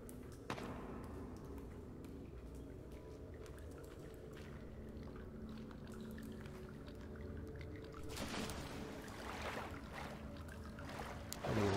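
Water runs in a narrow cave passage in the video game The Forest, a faint, steady rushing trickle that swells into a fuller, splashier surge toward the end.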